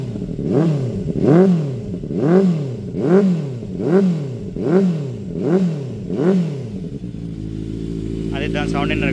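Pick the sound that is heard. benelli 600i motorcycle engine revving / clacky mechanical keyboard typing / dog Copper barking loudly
benelli 600i motorcycle engine revving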